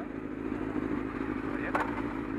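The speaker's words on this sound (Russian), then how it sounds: "Джек, поехали на заднем." A motorcycle ridden in a wheelie on its rear wheel gives a steady, loud, close engine drone with a brief rougher surge near the end, and no clear speech.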